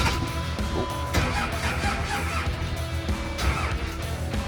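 Diesel truck engine cranking on weak batteries, a loud, continuous mechanical churn that labours along steadily without catching, close and dense throughout.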